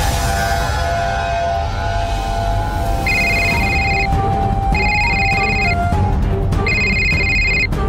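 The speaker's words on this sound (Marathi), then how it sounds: "ओ शिट, या पुष्पाचा फोन" A telephone rings in three evenly spaced electronic bursts, loud and close, over a steady background hum.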